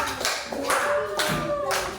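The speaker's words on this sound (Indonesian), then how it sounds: "tepuk tangan dulu untuk kelompok" A classroom applauds a student group during a religious education lesson, giving a short patter of hands clapping in uneven bursts, fairly close and bright, with a faint voice mixed in.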